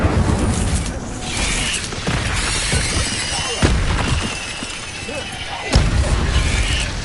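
In Hogwarts Legacy, an Incendio fire spell is cast during a fight with spiders. Loud, crackling bursts and sharp impacts repeat over several seconds, with a couple of heavy hits standing out near the start and end.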